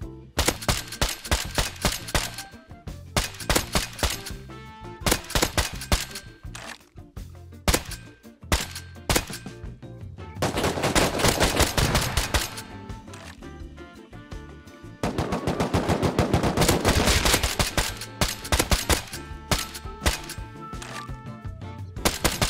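Rapid automatic gunfire from the video game Rust, dense bursts and sustained volleys fired close and loud with almost no pause across the whole stretch.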